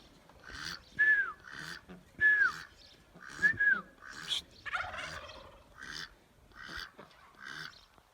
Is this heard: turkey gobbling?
yes